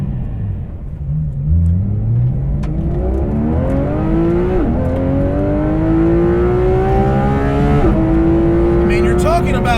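A Porsche 991.2 GT3 RS with a 520-horsepower engine revs hard and loud through rapid upshifts, its rising tone climbing, dropping at each quick shift, then climbing again from inside the car.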